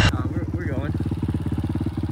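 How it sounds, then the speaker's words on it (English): A motorcycle engine runs close by on a snowy day with a steady, pulsing idle throughout, while a voice talks briefly over it near the start. "let me give her a whirl on this bike"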